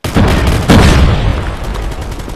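Frag grenade blast in Call of Duty Mobile, a loud boom followed by a second heavy burst of gunfire-like impacts, dense and near, with continuous battle noise trailing off.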